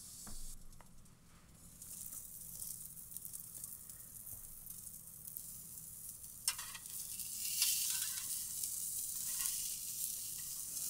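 Salmon fillet laid flesh side down on a Weber Q grill, a soft, continuous sizzle and hiss heard close up with a few faint crackles and no talking.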